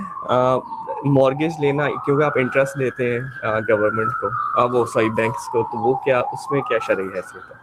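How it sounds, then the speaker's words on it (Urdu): An ambulance siren wails through downtown Toronto streets, its tone sliding steadily up and down as it echoes between city buildings, running continuously beneath a man's close, clear speech. "یہ جو ایمبولینس کی آواز جب گونجتی ہے نا بلڈنگوں کے درمیان"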